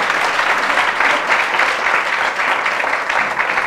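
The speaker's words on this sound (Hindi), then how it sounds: "तो जोरदार तालियां।" A satsang audience at a Dussehra gathering gives loud, sustained applause, many hands clapping in a thick, even roar from start to finish.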